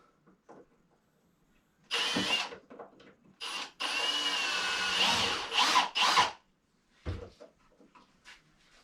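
Cordless power drill driving screws with its clutch engaged, several short whirring bursts of varying length separated by pauses, close and fairly loud against a quiet room.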